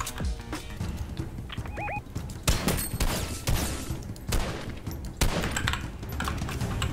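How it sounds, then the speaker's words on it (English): Sharp gunshots from a shooting video game, apparently sniper fire, crack out in a few separate bursts over a busy layer of game sound and effects. "Someone's shooting. Someone's sniping."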